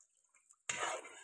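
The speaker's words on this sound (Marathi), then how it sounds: "पाणी टाकते." Water poured into a thick egg curry in a pot, a single brief splash starting abruptly after a quiet moment and lasting under a second.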